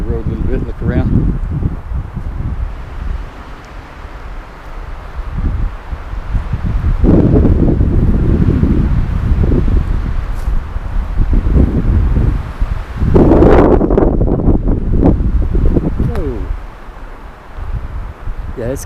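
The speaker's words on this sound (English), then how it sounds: "They said 10 to 20 miles per hour, and then gusting up to 40 or over." High wind gusting through a dry forest beside a road, roaring and rustling in repeated surges with strong microphone buffeting, two louder gusts mid-clip, and a voice talking at times.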